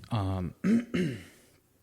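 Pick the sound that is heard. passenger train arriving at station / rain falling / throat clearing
throat clearing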